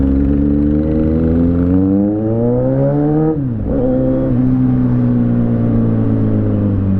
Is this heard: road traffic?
yes